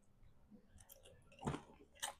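Crispy fried pork ginabot being chewed close to the mic, a few soft crunchy bites and smacks spaced unevenly over a couple of seconds, quiet and with no talking over them.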